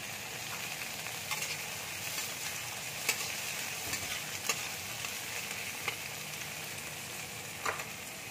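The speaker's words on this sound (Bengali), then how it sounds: "এবার আমি টমেটোটা দিয়ে দিচ্ছি।" Tomato stirred in a frying pan while making bahari begun, a steady soft sizzle with scattered scraping clicks of the spoon throughout, no voices.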